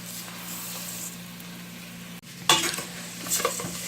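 Dry rice browning in a hot pan on medium-high heat, giving a steady faint sizzle that picks up into louder scraping stirs and crackles near the end.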